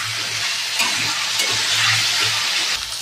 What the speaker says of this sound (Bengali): আলুটাকে ভেজে নেবো লাল করে